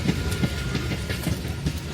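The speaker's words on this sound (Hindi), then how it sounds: "ये लोकल ट्रेन बनगांव से सियालदा जा रही है।" Local commuter train from Bangaon to Sealdah passing close by, a steady rolling rumble with rhythmic clickety-clack wheel beats across the whole stretch, no voices.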